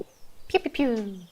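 A voice imitates four distant gunshots with quick, soft vocal 'pew' sounds.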